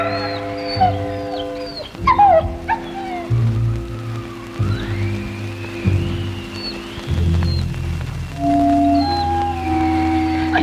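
A dog whimpers and whines in drawn-out, high-pitched cries, with a low droning background beneath.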